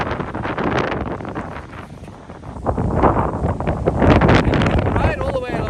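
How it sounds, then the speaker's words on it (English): Strong wind buffets the microphone on a mountainous coast in the Dominican Republic during a dirt bike ride, a loud gusting roar that swells and fades, with voices talking underneath. "Oh, it's blowy out here."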